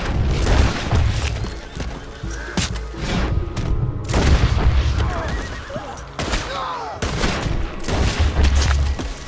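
Several sharp gunshot bursts from Red Dead Redemption 2, scattered across a busy outdoor scene with a horse whinnying and hooves clip-clopping, the shots loud and close between quieter stretches.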